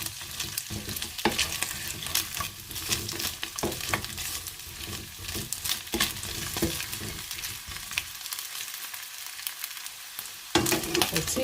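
Food fries in hot oil to golden brown for fried rice, with a loud, dense crackling sizzle and frequent stirring scrapes, dipping briefly before the sizzle picks up again.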